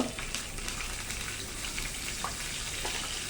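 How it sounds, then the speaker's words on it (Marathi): Cumin and asafoetida tempering sizzling in oil for kadhi on a low flame, a quiet, steady hiss with faint sporadic crackles throughout, close but soft, with no speech. "भरपूर जिऱ्याची फोडणी साधारणतः अर्धा ते एक चमचा जिऱ्याची फोडणी घालायची"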